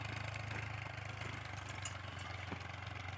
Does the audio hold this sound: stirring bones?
no